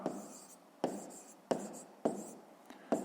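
A pen scratches out a fifth-grade maths exercise by hand, in short separate strokes with sharp onsets, close and quiet, roughly one every half second.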